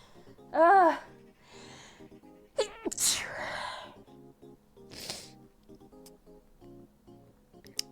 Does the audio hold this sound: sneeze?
yes